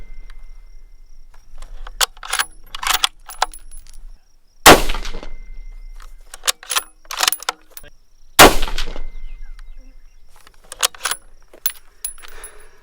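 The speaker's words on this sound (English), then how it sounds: "Let's try that little gong there." Bolt action rifle shots, one from a Fierce CT Rival or Howa Carbon Elevate, fired at a steel gong target outdoors; two sharp, loud cracks stand well apart, each followed by a short ringing decay, among scattered clicks and handling noises.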